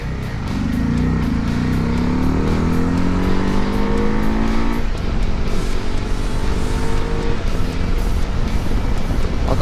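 A KTM 390 Adventure motorcycle rides off-road, its single-cylinder engine loud and close, revving up through gears with a shift partway through, then holding a steady drone with wind noise.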